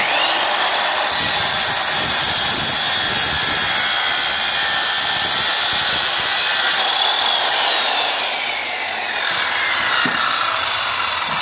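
A Ryu RCS 185-1 circular saw cuts through hard wood with a loud, continuous high whine and grinding rasp, easing briefly near the end before picking back up.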